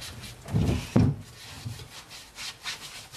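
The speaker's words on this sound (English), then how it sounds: "Just kind of go around and scrub." Brush scrubbing around a road bike wheel and tire, two firm rubbing strokes followed by lighter swipes, close and fairly loud with no talking.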